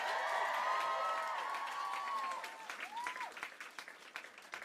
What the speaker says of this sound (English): Give a round of applause to NPR for putting this whole thing on.